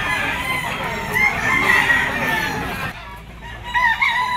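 A young gamecock stag of sweater bloodline crows close by at the Grotto open-air pet market, one long strained crow followed by a shorter call near the end, with faint market voices in the background.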